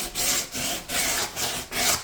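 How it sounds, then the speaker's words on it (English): Wooden farmhouse window trim being sanded by hand with a rough sanding pad: four steady back-and-forth rasping strokes, close and fairly loud, in an even rhythm. "I'm using a really rough sanding pad,"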